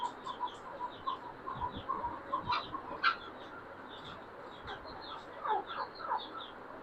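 Chukar partridges, a full-size Maskati breeder male among them, call repeatedly in short clucking and cooing bursts at moderate distance over a steady low background hum.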